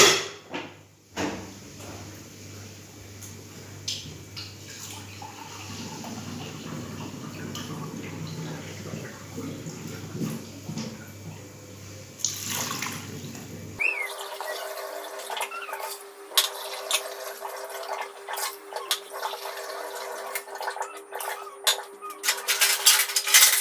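A cook fills a metal pot with water from a kitchen tap for a Balinese pork-bone soup. It makes a steady rushing, splashing stream that goes on for many seconds among light kitchen clatter.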